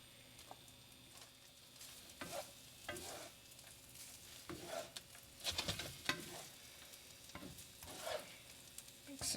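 Cooked basmati rice and lentils being gently stirred together in a pan, soft intermittent scraping and clinking strokes over a faint low sizzle, quiet and close.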